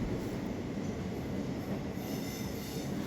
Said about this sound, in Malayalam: ഇവിടെ എത്തുമ്പം ദേ ഇതുപോലെ ഗുഹയ്ക്കകത്തോടെ നമ്മൾ ട്രെയിൻ പോകും